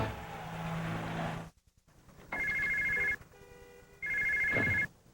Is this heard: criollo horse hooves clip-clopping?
no